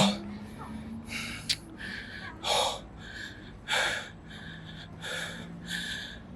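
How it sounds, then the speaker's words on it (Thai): Heavy, rhythmic panting from a man climbing a long flight of mountain stairs, a series of loud gasping breaths at an uneven pace with some breaths much louder than others. "ให้เสียงหอบของผมนะครับ เป็นตัวแทนว่า มันเหนื่อยแค่ไหน ในการที่จะ เดินขึ้นสู่จุดสูงสุดของยอดเขานี้"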